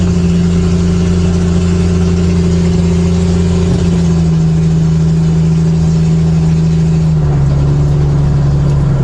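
A vehicle engine running steadily with a strong constant hum, loud and close, its pitch stepping down slightly partway through instead of climbing into a clear rev, with no talking over it.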